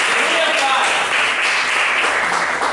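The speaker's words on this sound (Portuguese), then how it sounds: "Aplaude e glorifica o nome do Senhor com alegria bem forte." Church congregation clapping together in sustained applause, a dense, even wash of many hands that fills the whole moment, with voices mixed in underneath.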